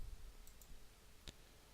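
A single faint computer mouse click sounds about two-thirds of the way in while sending a greeting card by email, set against a low room hum with no talking.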